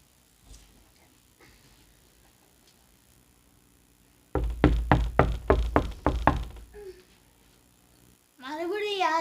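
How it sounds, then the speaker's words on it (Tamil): Someone pounds on a door at night in a spooky setting, about eight loud, evenly spaced knocks in quick succession after a quiet stretch, followed by a voice. "மறுபடியும் யார் தட்டுறா?"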